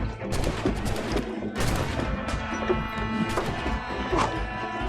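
Gunfire rattles off in Assassin's Creed Black Flag during a naval battle, rapid repeated cracks and booming shots in dense volleys over a busy background of ship combat noise, loud and close.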